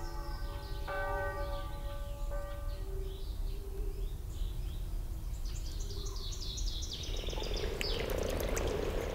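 Frogs croak in a wild Alpine and Rhine river habitat, several calls overlapping with a bell-like ringing tone, then a dense pulsing chorus swells near the end, close and steady.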